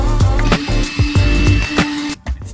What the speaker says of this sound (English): The hole is too small and I need to drill a bigger one.